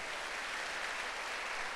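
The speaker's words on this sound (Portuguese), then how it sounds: "Pode dar uma salva de palmas para Jesus" A church congregation applauds during a Portuguese-language sermon, a dense continuous burst of clapping held at a steady level for the whole moment.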